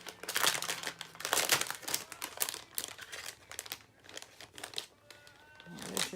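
Scissors snip through a paper card connector while making handmade holiday cards, giving a run of close, crisp cutting and crinkling sounds that come in bursts with short pauses.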